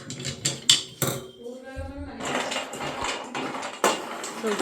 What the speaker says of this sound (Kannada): ಫಸ್ಟ್ ಗೋಡಂಬಿ ಹಾಕ್ತಿದ್ದಾಳೆ.